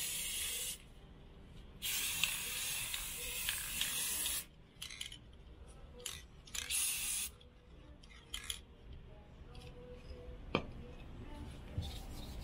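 Spray paint hisses onto a mirror frame being painted gold, coming in several sharp bursts of varied length with brief quiet gaps between them, close and fairly loud.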